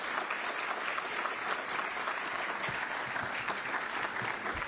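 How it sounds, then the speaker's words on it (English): A crowd at a State of the City address in Duluth applauds its city councilors, a sustained, even wash of many hands clapping, fairly distant and continuous with no talk over it. "Could we give our councilors a round of applause"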